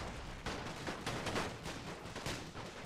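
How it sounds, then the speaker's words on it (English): Machine guns rattle in a WW1 Verdun battle between Germany and France in The Great War: Total War mod, rapid overlapping bursts of distant gunfire crackling continuously and fairly faint, with no voices. "waiting for him, I have a lovely unit of machine gun here"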